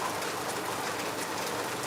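Heavy rain pours down in Lagos, a dense, steady hiss of falling water that holds at an even level throughout with no voices.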